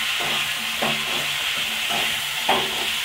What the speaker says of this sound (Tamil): இதுவும் கொஞ்சம் நல்லா வதங்கி வரட்டும்.